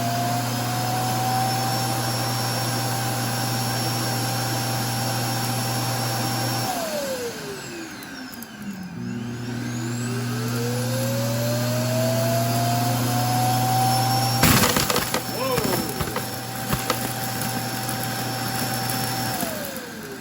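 An iRobot Roomba i3+ robot vacuum runs loudly and steadily up close, its motor whining down and rising again mid-way, then rattling and crunching briefly as it sucks up spilled rice; nobody speaks.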